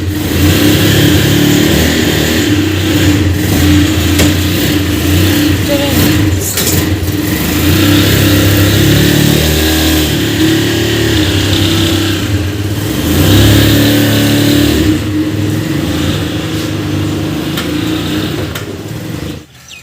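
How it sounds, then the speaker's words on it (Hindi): A car being driven out from a home, its engine revving and accelerating loudly and close by, rising and falling over about twenty seconds, with a brief spoken word. "पापा जान जी गाड़ी बाहर निकालने लगे हैं।"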